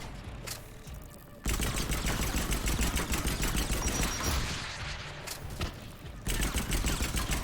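Rockets and gunfire roar through a Mass Effect 3 firefight: dense, loud bursts of shots and blasts that run almost without pause after a brief quieter opening.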